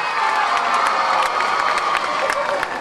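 A live audience at an evening outdoor stage show cheers, whoops and applauds dancers, a dense, loud and steady wall of crowd noise with scattered shouts from start to finish.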